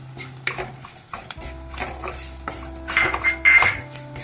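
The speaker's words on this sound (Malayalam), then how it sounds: "നന്നായിട്ടൊന്ന് വഴറ്റി കൊടുക്കുക അധികം കരിഞ്ഞു പോണ്ട ജസ്റ്റ് ഒന്ന് വഴറ്റിയാൽ മതി" Spices and crushed pepper powder sautéed in a pan, a spoon clinking and scraping against metal in irregular strokes with a faint sizzle underneath, close and fairly soft.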